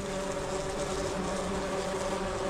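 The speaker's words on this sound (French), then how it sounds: "Aujourd'hui j'ai reçu les premières ruches de bourdon pour aider à la pollinisation." Bumblebees buzzing inside newly delivered pollination hives on a farm, a dense continuous droning hum of many insects close by, steady throughout with no talking.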